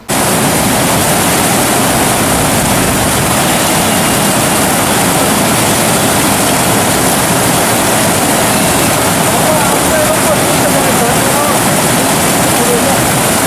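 Water released through opened dam gates during heavy rain roars continuously and loudly, a dense unbroken rushing wash with no pauses.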